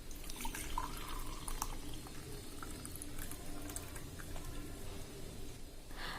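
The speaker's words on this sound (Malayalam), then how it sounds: "ഇനി നമുക്കിതൊരു ഗ്ലാസ്സിലേക്ക് ഒന്ന് അരിപ്പ വെച്ചിട്ടൊന്ന് അരിച്ചെടുക്കാം" Boiled ginger water pours through a strainer into a glass, a faint, continuous soft trickle with light dripping, close but quiet.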